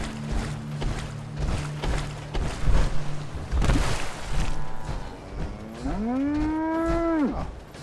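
A cow in Fallout 4 lets out one long, loud, drawn-out moo near the end, preceded by scattered game noises and clattering.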